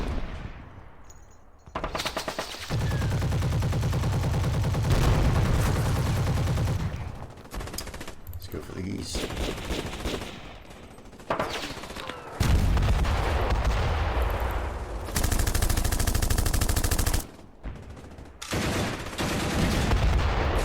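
Gunfire and artillery from the Panzer Campaigns Kiev '43 wargame: loud bursts of machine-gun fire and booming shots in repeated blocks, separated by brief gaps, heard alone without talk.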